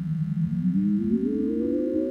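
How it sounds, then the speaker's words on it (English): A smooth electronic tone converted from a person's brainwaves glides slowly upward in pitch, steady and fairly loud, with a faint rough hum beneath it. "That's the sound of your brain."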